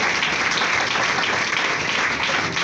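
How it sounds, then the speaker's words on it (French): Guests at a Congolese wedding ceremony applaud in a full, continuous burst. The clapping is dense, even and close, with no pauses. "Veuillez vous asseoir, on applaudit pour le s'il vous plaît."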